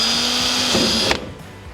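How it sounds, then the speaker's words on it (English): A power drill whines steadily as it bores a hole through the yellow gel-coated fiberglass body of an Ultima RS kit supercar, then the motor cuts off abruptly, leaving a quieter tail. "So let's put a little hole through here."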